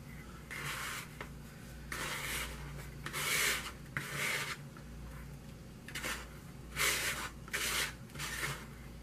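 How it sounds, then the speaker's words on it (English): A spatula scrapes the bottom of a mixing bowl while making toilet fizzies, giving a series of close, soft rubbing strokes in short bursts, alone and fairly quiet. "I'm scraping down like that because there's a little divot in the bottom of the bowl"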